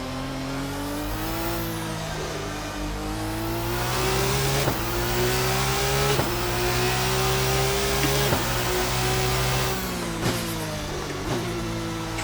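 Open-wheel race car in the Assetto Corsa sim with a Race Sim Studio RSS 2 mod, engine revving hard and steady with pitch sweeps through gear changes and braking, loud and continuous with no talk.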